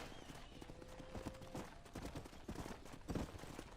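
Horse hooves clip-clop at a steady trotting rhythm over a dense outdoor background, fairly close and moderately loud, in the video game Red Dead Redemption.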